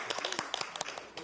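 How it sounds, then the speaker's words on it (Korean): Scattered, fairly faint clapping at a Democratic Party floor leadership meeting, a handful of separate claps rather than full applause, brief and close. "박수를 확실하게 쳐주시죠"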